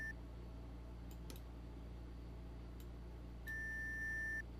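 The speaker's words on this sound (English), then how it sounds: "You hear beeps in your EV suit as you're trying to get your comm to reach anyone." Electronic beeps from a space suit's comm unit in a sci-fi audio drama, a few short chirps followed by a longer steady tone over a low hum.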